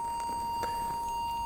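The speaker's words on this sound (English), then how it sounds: "Seems that there's a constant beep." A Namco arcade board running its sound test, the Pac-Man, Rally-X and Dig Dug hardware, emits a constant thin beep, a steady mid-pitched tone holding unbroken over faint background hum.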